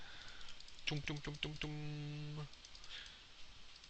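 Quick clicking taps come in a short run in Minecraft while shearing sheep, followed by a sustained tonal game sound, all soft and close.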